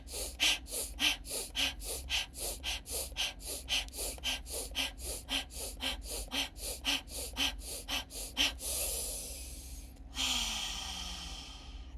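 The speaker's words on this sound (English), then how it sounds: "We're gonna breathe in through the nose, out through the mouth, and we're gonna do it quite quick." Rapid, rhythmic breathing during a guided functional breathing exercise, in through the nose and out through the mouth: some twenty quick, even breath cycles close up, then a long sustained exhale and a final slower breath.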